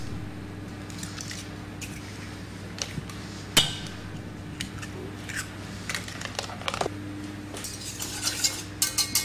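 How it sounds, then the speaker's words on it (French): Eggs cracked and whisked with milk in a bowl, a scattered run of light taps, clinks and scraping stirs over a steady low kitchen hum, with one sharper knock partway through. "Nous allons casser les œufs"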